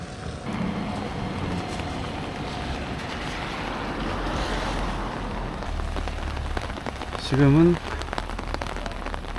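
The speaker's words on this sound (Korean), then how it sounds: "여기도 비가 안 오면 진짜 예쁘다는데 비가 와가지고 어떨지 모르겠네요." Steady rain pours down in a dense, hissing patter at Dogo Park in Matsuyama, Japan, with a brief rising squeal near the end.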